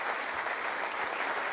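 Steady, continuous applause fills the whole moment, a dense wash of clapping hands at even loudness with no voices on top, set up as a cheer for a stock reveal.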